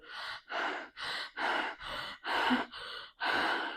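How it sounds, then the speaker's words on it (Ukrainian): Eight deep, forceful breaths follow one another at a steady pace with short pauses between them during a relaxing fitball exercise for pregnant women, heard close and alone. "І давайте ми подихаємо, начебто ми спочатку хочемо наситити себе киснем"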